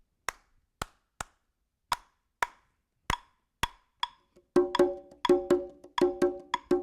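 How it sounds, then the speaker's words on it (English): A clave rhythm on percussion starts as a sparse pattern of sharp, dry wooden clicks, then a second pitched, ringing percussion sound joins and layers a denser pattern over the pulse. "Here's the clave again."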